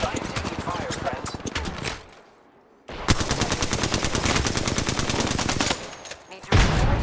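Rapid automatic gunfire in the video game Apex Legends, loud sustained bursts broken by a short pause and then a long stream of shots, close and dense.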